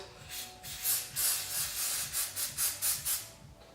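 Short bursts of silicone oil aerosol spray hiss into a gloved hand, about eight quick puffs in an irregular rhythm, close by, with faint rubbing underneath.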